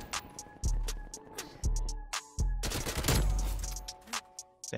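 MP5 submachine gun firing in Call of Duty Cold War: several sharp, loud rapid bursts of automatic gunfire separated by short pauses, with a longer sustained burst in the middle.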